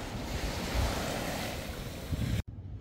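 Surf washing onto the beach at Bandos Maldives resort, a steady broadband roar mixed with heavy wind buffeting on the microphone, cutting out abruptly near the end.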